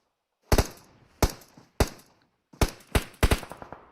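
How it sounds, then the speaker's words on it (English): Gunfire in the PUBG Mobile video game during an esports match: sharp, loud shots in short bursts, three single cracks then a quicker cluster, with silence between. "They're shooting in that smoke, hoping for a hit."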